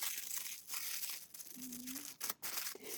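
Thin tissue paper for a handmade paper flower is handled close by, producing soft continuous crinkling and rustling with a few sharper crackles, quiet throughout.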